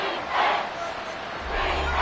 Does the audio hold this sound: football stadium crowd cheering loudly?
yes